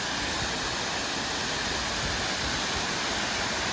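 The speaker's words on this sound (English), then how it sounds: "Here's the falls." Brandywine Falls, a waterfall in Cuyahoga Valley National Park, roars as a steady, even wash of broadband water noise, continuous and fairly soft, with no voices over it.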